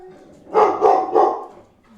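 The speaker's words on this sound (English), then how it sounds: "Jill, how we can't continue this episode until you stop barking, Joe." A dog gives three quick, loud barks close by in a room, then falls quiet.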